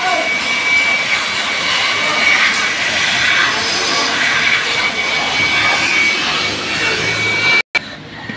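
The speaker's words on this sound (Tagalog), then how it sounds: "gagamitin yung blower para mabilis pumatuyo" A loud, steady rushing roar of an air blower drying pickup truck parts during an oil change runs continuously, with a brief cutoff near the end.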